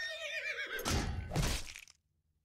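A video game horse gives one loud, close whinny, with harmonics falling away before a rough breathy snort. Two strong bursts follow, then the sound cuts to silence at about two seconds.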